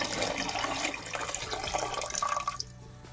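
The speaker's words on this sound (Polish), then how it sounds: "zalewam ją wodą" Water pours steadily into a pot of cabbage, a rushing, splashing stream that continues for a few seconds before tapering off.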